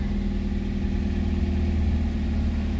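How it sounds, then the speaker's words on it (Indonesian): A stock exhaust on a Toyota Vios Limo running steadily at idle, a constant low engine drone with a deep throb, close by and loud with no other sounds throughout. "Kedengeran nggak suara knalpotnya kayak begitu? Ini knalpot masih standaran."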